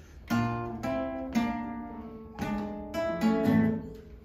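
Guitars in a music class playing a short melodic line, a few plucked notes with sustained harmonic tones ringing clearly, close and alone without talk.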